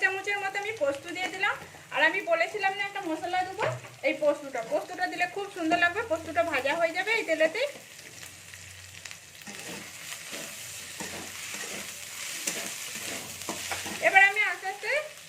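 Poppy seeds dropped into hot oil set off a loud, continuous sizzle with stirring scrapes, heard mostly on its own in the middle while a person talks before and after.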